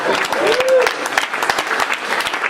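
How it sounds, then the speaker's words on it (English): Audience applause fills a room at a church gathering, a dense wash of steady clapping from many hands lasting throughout, with some talk mixed underneath. "But can't you applaud Brad?"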